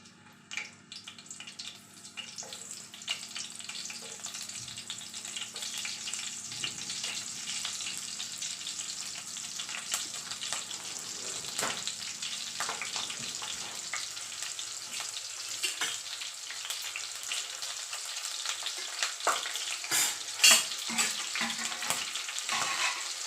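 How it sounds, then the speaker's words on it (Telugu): Green chillies fry in hot oil for a kalivindalu (carissa berry) curry, with a steady close sizzle throughout and intermittent scraping of a spoon stirring the pan, without speech. "ఆయిల్ హీట్ అయిన తర్వాత పచ్చిమిరపకాయలు"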